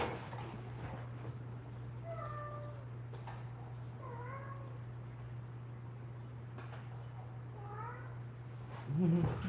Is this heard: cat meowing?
yes